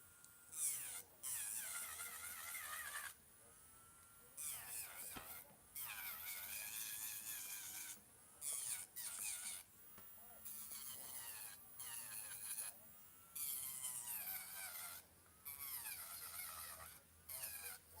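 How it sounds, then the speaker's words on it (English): A faint, high-pitched electric nail drill whirs in repeated bursts while filing acrylic off toenails, starting and stopping, its pitch rising and falling as it works. "I just love the way this drill sounds."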